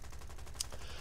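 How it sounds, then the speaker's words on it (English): Rapid machine gun fire from aircraft in the War Thunder combat game, a steady dense rattle of quick bursts under a constant engine drone, fairly faint and continuous throughout. "in this case, I think this is just machine guns"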